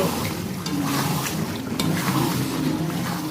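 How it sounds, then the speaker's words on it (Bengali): Marinated chicken stir-fried in spice masala gives a continuous moist sizzle and sputter, with scraping and stirring sounds mixed in at close range. "এবার এই মশলাটার মধ্যে দিয়ে দেবো মাংসগুলো, দিয়ে এবার ভালো করে কষাবো।"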